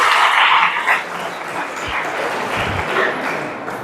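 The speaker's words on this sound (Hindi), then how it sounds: "एक बार जोरदार ताली बजा दीजिएगा।" Audience applause in a hall during a Hindi talk on personality and self-reliance, a dense broadband clapping that starts loud and eases slightly but keeps going steadily to the end.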